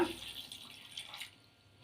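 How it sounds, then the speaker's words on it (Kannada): Water is poured briefly into a mixer jar, a quiet, short splashing trickle that stops after about a second. "ಇದಕ್ಕೆ ನೀರು ಸೇರಿಸ್ಕೊಳ್ಳೋಣ"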